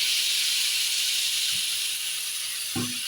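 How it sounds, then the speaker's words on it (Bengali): Water poured into a hot pan of drumstick (sajne data) pieces and potatoes seasoned with salt and turmeric, giving a steady loud steam hiss with a couple of brief sizzling bursts near the end. "এখন আমি দিয়ে দেবো জল।"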